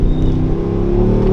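A Mercedes-Benz G63 AMG accelerates hard on an open road, its engine a loud, steady roar that climbs in pitch throughout, heard alone from close by with no voices.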